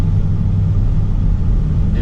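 Dodge Challenger R/T 392 with an 8-speed transmission cruising on the road, its engine a steady deep low rumble heard from inside the car, continuous and fairly loud with no talking.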